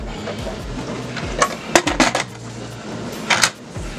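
Metal lid of a Power Pressure Cooker XL being set back in place, a cluster of sharp clinks and rattles near the middle and another near the end, close up over a low background hum.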